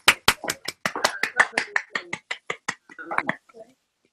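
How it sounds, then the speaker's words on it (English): Scattered claps from participants unmuted on a video call during an online art department convocation ceremony, a string of separate sharp smacks over about three seconds that thins out and fades, with no talking. "those of you who are able to unmute yourself, unmute and applaud"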